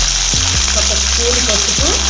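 Peanuts and curry leaves fry in hot oil for a brinjal fry, making a continuous close sizzle and crackle. A couple of brief knocks or scrapes from stirring stand out.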